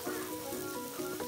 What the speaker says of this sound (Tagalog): pag mainit na yung mantika, gisa natin yung ating bawang